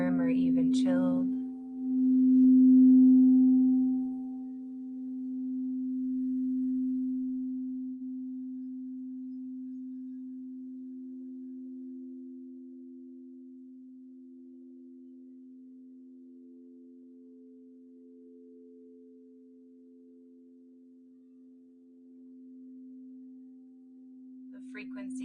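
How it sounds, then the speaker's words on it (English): A steady 432 hertz tone from a mindfulness and gentle yoga sound session hums softly and continuously, with faint resonant overtones layered on briefly near the start. "The frequency that you hear is 432 hertz."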